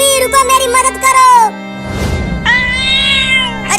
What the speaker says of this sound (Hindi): अरे वो बिल्ली मुझे क्यों रुकने के लिए बोल रही है?